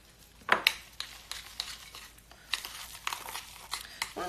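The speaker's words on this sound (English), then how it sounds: "Just stir it in." Chocolate flecks stirred into shortbread cookie dough in a bowl, giving soft scraping and light clinking taps of a utensil at an uneven rhythm, close by and quiet.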